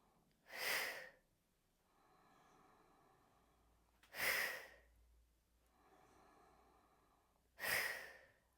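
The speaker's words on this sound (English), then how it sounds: "On the exhale, you force the air out as the belly snaps in." Three forceful, sharp nasal exhales of Kapalbhati breathing during yoga practice, spaced a few seconds apart, each a loud hissing burst of breath over quiet background with no talking.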